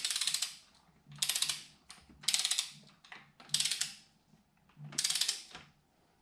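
A hand ratchet tightens the top end bolts of a Honda CB550 in a crisscross pattern, making five close, rhythmic bursts of rapid clicking with short quiet gaps between them.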